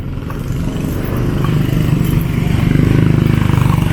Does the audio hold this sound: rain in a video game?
no